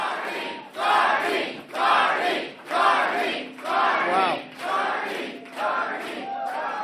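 A large crowd at an election rally in Calgary chants in rhythmic, roaring bursts, about six loud surges separated by short dips.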